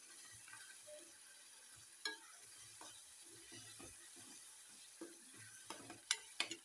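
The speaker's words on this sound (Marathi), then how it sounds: "हे छान आपण तळून घेऊया मस्त" Shahi paneer cooking in a pan gives a faint sizzle under scattered scraping and clinks of a spatula stirring, with sharper knocks near the end.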